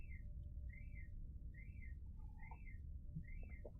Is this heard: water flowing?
no